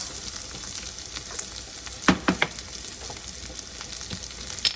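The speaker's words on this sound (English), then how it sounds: "the celery root is browning nicely. I'm now going to season it with some salt" Celery root sautéing in a pan, browning and sizzling with a soft continuous crackle and a few sharper pops and spatters, with no talking.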